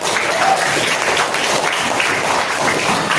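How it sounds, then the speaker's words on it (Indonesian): Applause for a student named Jess during a mentoring class session in Tangerang Selatan, Banten, a dense, steady patter of clapping from a group lasting about three seconds. "Tepuk tangan buat Jess."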